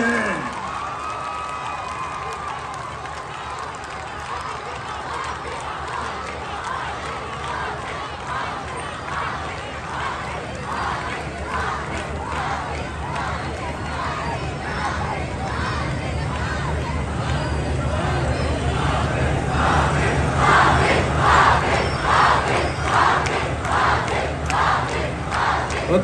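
A large crowd at a Jamaat-e-Islami sit-in chants slogans in rhythmic unison, a dense mass of voices with regular pulses that grow louder and more forceful toward the end, with cheering and shouts mixed in.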